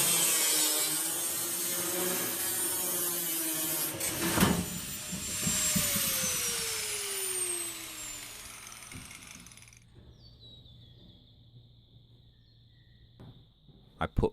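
Angle grinders cutting a hole through a steel shipping container wall, a harsh whining grind with descending pitch as the disc slows, fading to quiet background and a few knocks.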